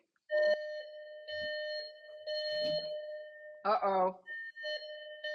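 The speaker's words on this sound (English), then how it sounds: "that's my driveway alarm letting me know" A driveway alarm chimes indoors as a series of clear, sustained electronic tones in separate bursts, with a voice briefly speaking between them.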